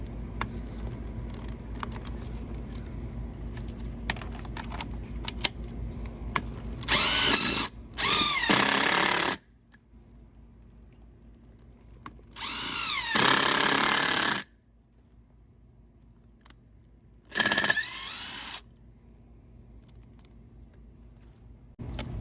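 A Ridgid cordless power drill runs in three separate bursts of roughly two seconds each, loud and close, with near-quiet gaps between them.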